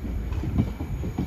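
An Avanti train rumbles past at Harrow and Wealdstone station, giving a brief, low rolling noise with faint wheel clatter at a moderate distance.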